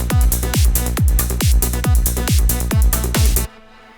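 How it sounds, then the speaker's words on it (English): Psytrance synth bass, lead and drums play together: a loud, steady pounding kick drives a rolling bass and bright lead for several beats, then the music cuts off abruptly near the end. "all three together sound like this: bass, lead, and drums."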